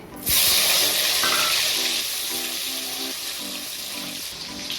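Black cumin and chopped tomato hit hot oil with a loud, steady sizzle that bursts in sharply and holds, with faint stirring clatter under it, while making a Bengali hilsa curry with teasel gourd.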